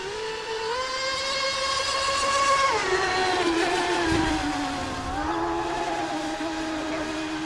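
A TFL Mini Zonda RC boat runs on water, its small electric motor giving a high, whining drone that rises and falls in pitch as it speeds up and turns, steady and fairly loud throughout.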